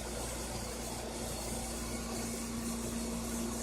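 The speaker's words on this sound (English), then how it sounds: "We got a vacuum pump right here it's working on." A vacuum pump runs on a rotary evaporator, a faint steady mechanical hum with a constant tonal drone throughout and no other sounds.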